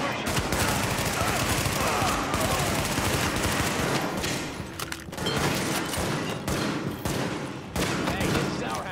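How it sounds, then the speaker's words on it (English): Dense, loud gunfire from Tom Clancy's The Division on PC comes in rapid repeated bursts with brief gaps between volleys, close and sustained, with a voice speaking over part of it. "Seems like burst firing is the way to go."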